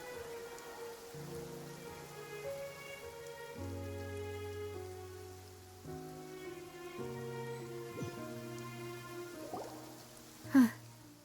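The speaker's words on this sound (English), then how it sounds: "It's been raining non-stop for a few days now." Steady rain falls in Genshin Impact, a soft continuous patter under sustained musical chords, with a brief sharper sound near the end.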